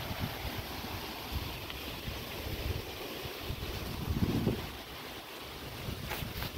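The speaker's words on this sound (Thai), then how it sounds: "วันนี้ก็ลมแรงเลยนะครับ" Strong wind blows outdoors across a field of natural grass during brush cutting, a steady roar and rumble buffeting the microphone throughout, with no voices.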